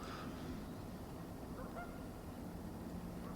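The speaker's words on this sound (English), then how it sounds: "all these geese are flying into here in the morning" Geese honk as they fly in to land at a morning hunting spot, the calls faint and distant over steady outdoor noise.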